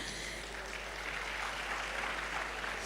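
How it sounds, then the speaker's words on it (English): Audience applause at a university summer school program, a continuous wash of distant clapping with a steady low hum beneath it. "Please put your hands together for them as they take their leave"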